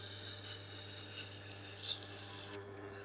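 A damaged Global kitchen knife is drawn across a Tormek grinding wheel, making a close, continuous gritty rasping that swells and eases with each stroke before cutting off near the end.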